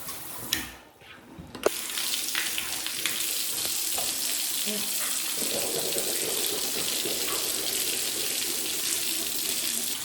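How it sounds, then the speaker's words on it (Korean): Warm water runs steadily from a tap or shower, a close, continuous hiss that starts after a brief quiet moment and carries on evenly to the end, with a few faint clicks and knocks around it. "따뜻한 물나오면 좋다"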